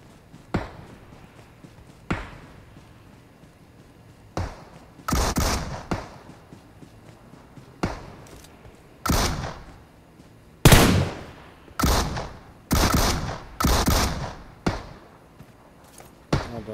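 Gunfire in the mobile battle royale game PUBG Mobile: about a dozen sharp shots at irregular intervals, some single and some in quick bursts, fairly close and loud with nothing but quiet between them.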